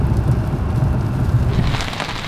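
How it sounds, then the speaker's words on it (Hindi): Steady heavy rain in cold, foggy winter weather at Niagara Falls, a dense broadband hiss with low rumbling underneath, continuous and fairly loud throughout. "बड़ी ज़बरदस्त बारिश हो रही है"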